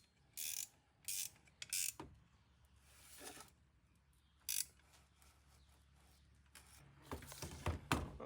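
A ratcheting wrench tightens bolts while an ARB twin compressor is mounted, giving short bursts of rapid clicking separated by pauses, along with faint knocks and handling noises, close and quiet.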